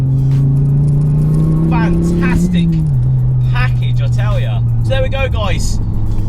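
A 400 bhp Ford Focus RS in WRC Michelin theme livery idles with a steady low engine drone. The pitch dips slightly partway through while someone talks excitedly over it.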